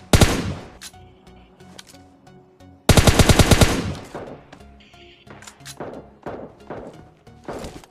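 Gunfire in the PUBG Mobile Lite battle royale game: sharp single shots followed by two loud rapid automatic bursts, with scattered further shots trailing off, close and punchy.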